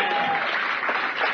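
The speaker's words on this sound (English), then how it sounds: "give the Lord a good clap offering" Church congregation applause given as a clap offering during a sermon, a steady dense wash of many hands clapping at moderate level, continuous and even for its short length.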